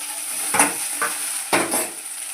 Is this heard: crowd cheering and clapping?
no